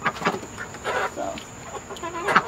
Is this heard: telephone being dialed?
no